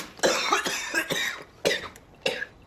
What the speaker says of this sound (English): Maybe just somebody coughing.